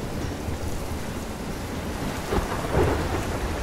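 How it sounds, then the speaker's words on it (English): Thunderstorm with heavy rain in the video game Life Is Strange, set in Oregon: a continuous roar of rain with a low rumble of thunder building and swelling near the end. "Seen a storm like this in Oregon."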